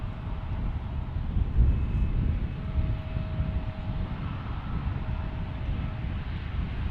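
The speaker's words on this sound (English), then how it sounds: "Here's ITA taking off, headed back to Rome, Fiumicino." An ITA Airways airliner takes off from San Francisco airport, heard from outside. It makes a loud, steady jet roar with deep rumble and wind buffeting throughout, peaking briefly near the start, with no voices.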